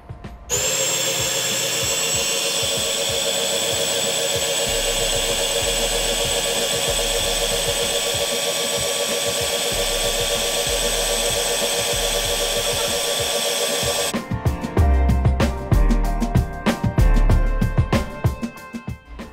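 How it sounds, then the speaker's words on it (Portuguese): An electric stand mixer runs at high speed, beating cream for a chilled Ninho powdered-milk cake filling. Its loud, steady motor whine holds for about fourteen seconds, then gives way to rougher, uneven mechanical rattling. "Agora vamos bater em velocidade alta, tá? Por aproximadamente 5 minutos."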